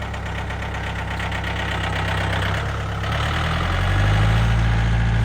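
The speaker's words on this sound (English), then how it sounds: "We got us a forklift." A forklift engine runs steadily at a low, rumbling idle close by, with a rough mechanical knock and vibration; it grows slightly louder and revs up a little near the end, with no talking.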